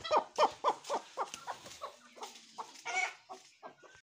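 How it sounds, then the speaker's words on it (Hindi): Hens cluck in a quick run of short, close calls, some overlapping, with a brief higher squawk partway through. "अब ये दूसरी मुर्गी को भी उठाते हैं"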